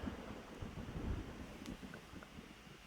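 Stormy night ambience from the horror video game Friendzoned, a steady low wind-and-rain rumble with soft thunder swells throughout, no voices.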